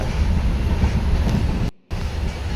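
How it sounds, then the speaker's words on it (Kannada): A long goods train rolls past close by with a loud, heavy rumble and rattle of wagons, cut by a brief sudden dip before the noise resumes. "ಗೂಡ್ಸ್ ಟ್ರೈನ್ಗಳು ಸಿಕ್ಕಾಪಟ್ಟೆ ಉದ್ದ ಇರುತ್ತೆ."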